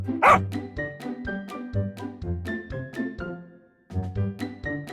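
Several dogs bark repeatedly in short overlapping bursts, close and fairly loud, with a brief pause before the barking resumes.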